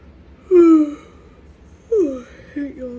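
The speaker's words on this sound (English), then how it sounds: "I hate yawning so much" Someone yawns twice close by, each a drawn-out breathy voiced sound that falls in pitch and trails off, followed by a softer third sigh-like exhale.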